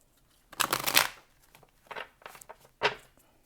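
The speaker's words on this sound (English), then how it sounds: "Okay, we're going to have one more shuffle and then we're going to get started." Tarot cards are shuffled close by in three quick riffling bursts, the first longest, with short quiet gaps between them.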